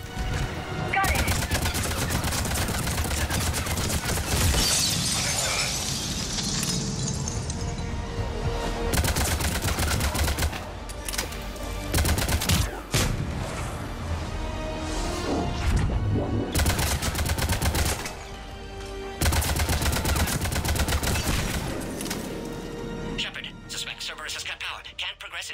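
Sustained gunfire from the game Mass Effect 3, dense bursts of shots running almost continuously with brief gaps, loud and close, with game voices and radio-like chatter mixed in.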